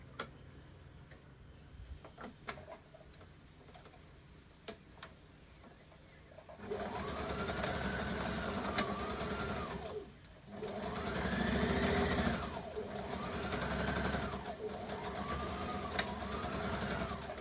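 After quiet handling noises, a sewing machine starts stitching a skirt dart, a close steady whirring hum with ticking needle beats that pauses briefly and then resumes in several surges.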